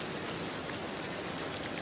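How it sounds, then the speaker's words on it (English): Steady rain falling on a surface, a dense even hiss of drops with no pauses, soft and enveloping, with no voices present. "The rain began to thin"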